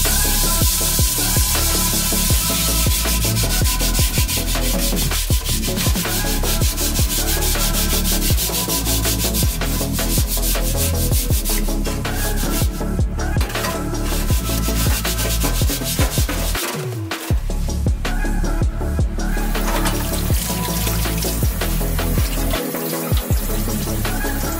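A rusty 10.5-inch cast iron skillet scrubbed with a Brillo pad and baking soda outdoors, giving a steady, dense, close abrasive rasping that runs unbroken throughout, with no voices.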